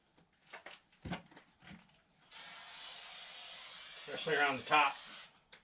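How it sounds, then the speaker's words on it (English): Tick repellent is sprayed onto boots in one continuous hissing burst lasting a few seconds, close and fairly loud, while a person talks before and over it. "I like to spray it on my boots too"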